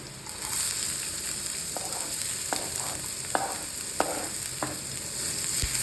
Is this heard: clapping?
no